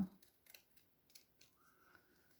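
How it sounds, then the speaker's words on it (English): Scissors trim card paper for a birthday card, a few quiet, crisp snips spaced irregularly in a hushed room, close and faint. "So let me just trim this off a little bit."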